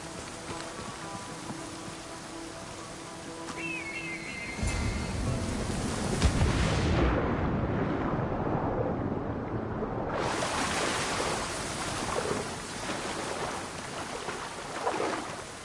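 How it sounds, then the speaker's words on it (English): A waterfall in the Assassin's Creed Odyssey video game roars as a steady broadband wash of falling water that grows louder partway through, with faint birdsong and ambient tones early on, and no talking. "This is the waterfall."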